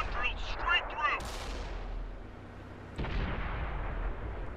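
Tank cannon fire in the World of Tanks video game: two heavy booming shots a couple of seconds apart, each followed by a rumbling tail, with a brief voice-like sound at the start.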